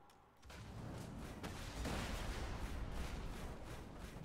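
Grenade explosion in the video game Borderlands 2: a muffled boom rises after a brief quiet start, followed by a dense, continuous din of gunfire and blasts that stays fairly low in level throughout.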